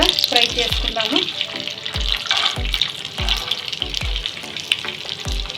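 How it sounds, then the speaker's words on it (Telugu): Garlic, ginger and coriander seeds fry in oil with a close, steady sizzle, cut by regular low thumps and stirring knocks in an uneven rhythm. "అలాగే అందులోకి వెల్లుల్లి, అల్లం, ధనియాలు వీటినన్నిటిని కూడా ఫ్రై చేసుకుందాము."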